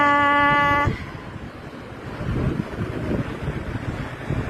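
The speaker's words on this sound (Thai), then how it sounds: "ทะเลหาดกะรน ภูเก็ต" Wind and sea waves on Karon Beach, Phuket, heard as a gusty, rumbling wash of surf and microphone buffeting that swells louder after a brief tonal sound at the very start.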